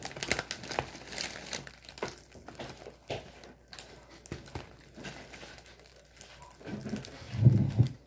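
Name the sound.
opening a cardboard box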